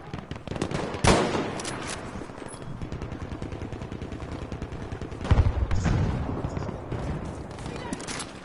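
Bursts of gunfire from a shooter video game rattle in rapid runs, with a sharp loud shot near the start and another heavy burst partway through, under a player's occasional talk.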